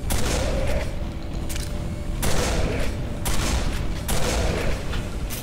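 Three heavy shotgun blasts in Quake 4, evenly spaced about two seconds apart, each a loud close boom trailing into a noisy roar with no voices.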